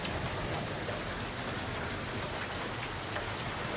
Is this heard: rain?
yes